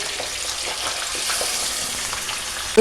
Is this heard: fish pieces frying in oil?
yes